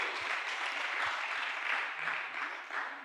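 A church congregation at a Sunday thanksgiving service applauds together, a dense steady clapping that fills the room without speech.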